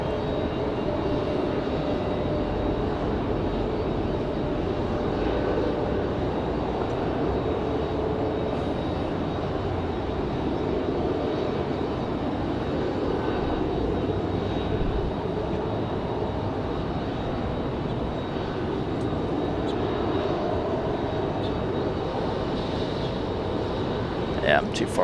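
A Southwest jet airliner rolls along the runway at Raleigh-Durham airport, its engines giving a steady, continuous broadband roar that stays fairly loud for the whole stretch, with a person talking over it now and then.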